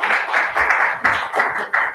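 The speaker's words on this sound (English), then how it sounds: "this is new that we applaud everything" Audience applause at a school board meeting, a burst of clapping from the room that swells and eases in a few waves over a couple of seconds, with no voices over it.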